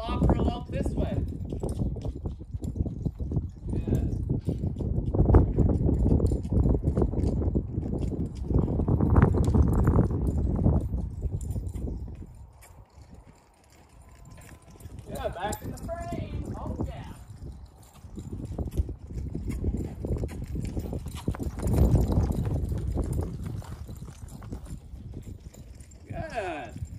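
A horse loping under saddle during a first ride, rhythmic clip-clop hoofbeats fading in and out as it circles nearer and farther, with brief soft talk at moments.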